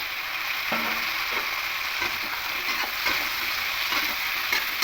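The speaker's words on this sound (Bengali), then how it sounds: "মিশিয়ে একটু হালকা করে ভেজে নেব সবজিগুলোকে" Potatoes and vegetables stir-fry in a pan, giving a continuous moderate sizzle broken by repeated scraping strokes of a spatula.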